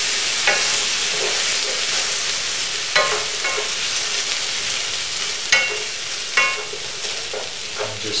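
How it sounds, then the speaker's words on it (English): Taco filling sizzles in a frying pan after a splash of orange mango juice, a steady bright hiss broken by several sharp scrapes of stirring. "And just stir it around just to make it all even."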